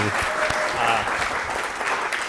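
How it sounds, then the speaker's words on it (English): Applause from the audience at a UC Berkeley startup pitch event, steady clapping with some voices audible underneath throughout. "let's give her a huge round of applause."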